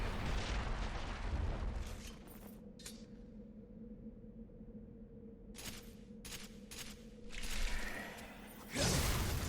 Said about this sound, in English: we did get an upgrade to the shuriken, and that'll give us the ability to use fire